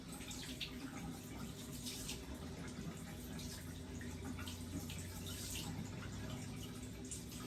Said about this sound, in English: So I'm rinsing the wipes out.